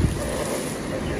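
A fire hose sprays water onto a sidewalk café fire at a restaurant, a loud, broad, continuous rushing hiss close by.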